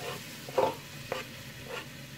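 Onion frying in a pan for a Lebanese peas and carrots stew gives a low, soft sizzle with a few brief stirring scrapes close by, and no speech.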